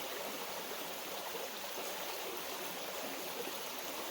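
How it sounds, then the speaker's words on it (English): A wilderness creek flows steadily past a rock at camp, a constant close wash of running water with no speech over it. "Just wanted to take one last look at the creek."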